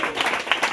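A church congregation clapping and applauding the Holy Spirit, a short spell of soft scattered handclaps from a crowd, fairly faint.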